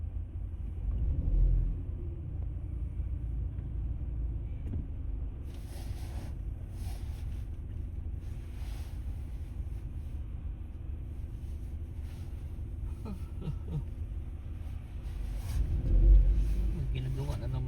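Steady low traffic rumble fills Manchester town centre, with cars passing and engines droning continuously while a person talks over it nearby.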